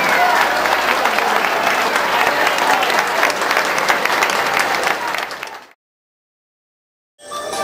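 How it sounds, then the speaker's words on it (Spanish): A crowd at a political campaign event in Silvania claps in loud, sustained applause that fades out abruptly, followed by a brief silence before noise returns. "Un gran aplauso a William Maecha, próximo alcalde"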